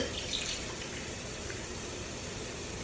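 A baking soda and water mixture is poured into a bowl of glue while making slime, giving a soft, steady, faint liquid pour that runs evenly throughout without talk.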